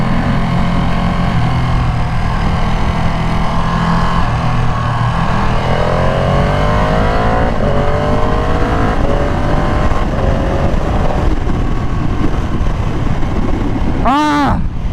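A rare Ducati motorcycle being broken in accelerates while ridden through a curve, its engine note rising in steady sweeps over constant wind rush, close and continuous, with a brief high chirp near the end.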